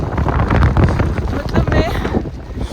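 Strong wind at Sonmarg in Kashmir buffets the microphone with loud, steady rumbling gusts, and someone talks over the roar.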